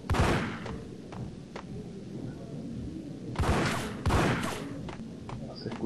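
Gunfire in the video game Max Payne: a few separate, fairly faint shots and thuds spaced irregularly over a quiet background, with two heavier bursts in the second half.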